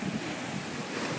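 Ocean surf breaking on the shore at Jupiter Beach, Florida, a steady, loud wash of waves mixed with wind rumble across the microphone, continuous throughout with no voices.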